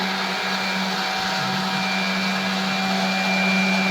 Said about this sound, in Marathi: आता मावशी आता मिक्सर मध्ये टाकत आहे.